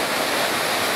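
Water pours and splashes steadily at an old, long-abandoned cornmeal mill wheel on a rural property, a dense, continuous broadband rush heard close and alone without pause.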